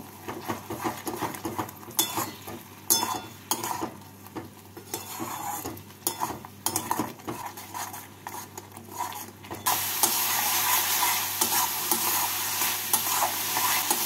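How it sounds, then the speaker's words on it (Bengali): Spice masala with Kashmiri red chili powder and sugar being stir-fried in a pan for soybean ghugni, with repeated spatula scrapes and clinks over a soft sizzle that swells to a loud, steady frying hiss. "সমস্ত কিছুকে দিয়ে মশলাটাকে ভালো করে কষিয়ে নেব।"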